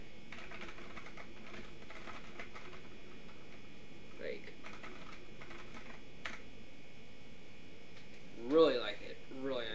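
Someone types on a newly built computer keyboard, giving soft, scattered keystroke clicks over a faint hum, while a person talks briefly near the end.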